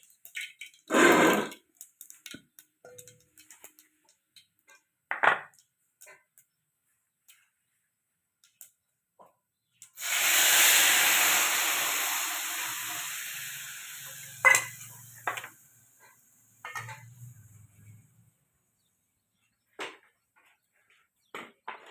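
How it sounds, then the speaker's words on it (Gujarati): Mustard seeds hit hot oil in a village kitchen pan for dhokli curry, bursting into a loud sizzle that fades slowly, with a few sharp clatters and stirring knocks before and after amid quiet gaps. "રાઈ નાખી એટલે ખબર પડે તેલ આવી આમાં થાય"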